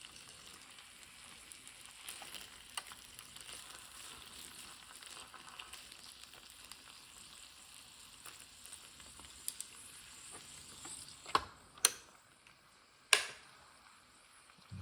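A Vsadey sandwich waffle maker sizzles as food cooks on its hot plate, a soft continuous frying hiss with light crackle throughout, broken near the end by a few sharp clicks or taps.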